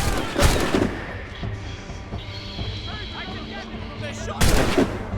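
Musket volleys crack out in an Assassin's Creed Rogue battle, two loud bursts of gunfire a few seconds apart, with soldiers shouting in the middle of the steady din of combat.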